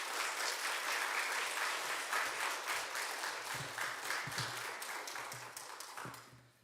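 A church congregation bursts into sustained, loud applause to welcome the pastor, dense clapping filling the hall before fading out at the end.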